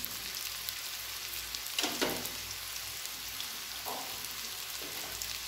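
Pumpkin and potato fry with turmeric, salt and sugar in a pan, making a soft, steady sizzle broken by a couple of brief scraping stirs.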